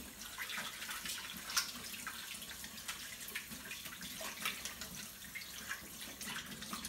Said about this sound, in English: So I'll just get this rinsed off.